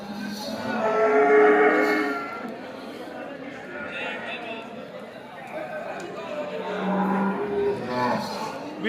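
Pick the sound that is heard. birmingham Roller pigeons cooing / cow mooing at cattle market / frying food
cow mooing at cattle market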